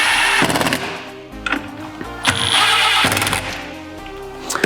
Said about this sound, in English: proceed with your drill. Just screw in the 3 bolts that hold it down